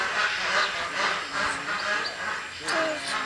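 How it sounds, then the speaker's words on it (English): Ducks quack repeatedly in a busy, nasal chorus, with a few sharper honks standing out near the end. "Do you hear the ducks?"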